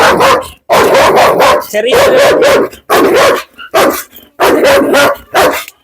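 A dog barks loudly and close by in repeated bursts of sharp barks with short gaps between them, and a person says a word briefly.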